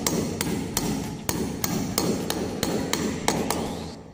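A hammer driving an anchor bolt into a concrete wall: about eleven sharp, ringing metallic strikes in a fairly steady rhythm, loud and close, with no talking.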